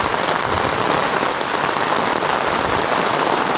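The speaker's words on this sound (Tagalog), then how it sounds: "Lakas ng ulan." Heavy rain pours down on a building under construction, a dense, loud, unbroken hiss of drops hammering surfaces close by, with no gaps and no voices.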